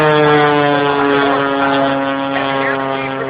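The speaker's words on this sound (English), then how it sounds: "Now let's watch him as he comes down low, using all the speed he can, a maximum 300 miles per hour as he goes into a knife edge" Aerobatic propeller airplane diving low at up to 300 miles per hour into a knife-edge pass at an air show, with a loud, steady droning engine and prop roar that holds throughout.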